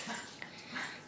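A dog whimpering softly in brief high whines, close but faint against light background noise.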